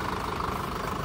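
Sonalika 750 tractor, a 2012 model, idling: a steady, continuous diesel engine rumble with a faint knocking texture, held at an even level throughout a short stretch, no talk.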